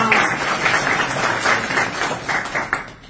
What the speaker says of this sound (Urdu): اسد اللہ کے لیے تالیاں